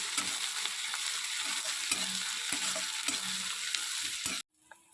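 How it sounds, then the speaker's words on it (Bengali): Onions frying in a pan for a home-cooked Bengali dish, a steady close hiss of sizzling with occasional stirring scrapes, continuing alone for several seconds before cutting off abruptly. "পেঁয়াজটা দিয়ে দেবো একটু লাল লাল করে ভাজি"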